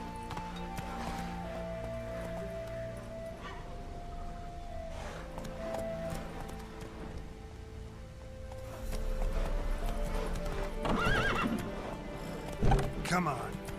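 A horse in The Witcher 3 gallops with steady clip-clop hooves and whinnies over game music and ambience, while someone talks over it.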